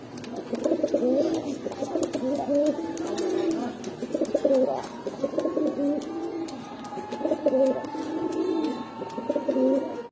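Pigeons of fancy breeds kept for sale coo in repeated, rhythmic low phrases close by, with a faint high whine running underneath.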